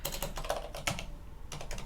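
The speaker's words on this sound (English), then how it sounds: "and then you just keep typing" Someone types on a computer keyboard while installing ArcoLinux, giving a quick, continuous run of light key clicks at close range with no voices.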